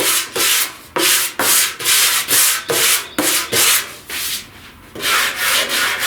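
Rhythmic back-and-forth strokes of a sanding block over body filler on a 1969 C10 front fender patch panel, loud and close, about a dozen even passes with brief pauses between them.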